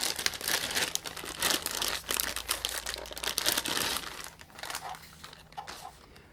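The original plastic bag of an XBAND video game modem is handled and crinkled up close, a continuous dense rustle with brief louder crackles and no speech.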